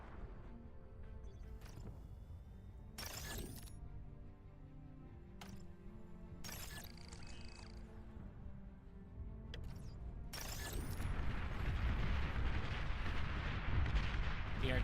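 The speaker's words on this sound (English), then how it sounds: "The artillery is doing work." Artillery fire in a real-time strategy video game, heard as repeated booming blasts scattered through a dense, rumbling battle soundscape that grows louder and busier toward the end.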